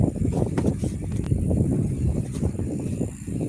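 Wind rushes steadily past a microphone outdoors on a hot day, a loud, constant buffeting roar with gusty swells and no pauses.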